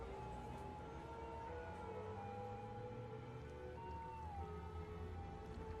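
Ambulance sirens wail in the Cities: Skylines city-building game, faint, drawn-out tones rising and falling with one another over a low, steady background hum, no voices.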